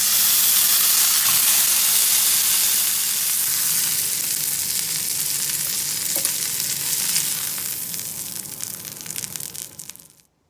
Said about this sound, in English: Dinner's all set. That's my slow cooker.